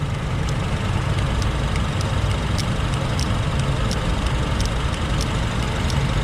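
A Honda engine idles with a steady low rumble while the A/C compressor relay ticks in faint, regular clicks about every half second above the drone.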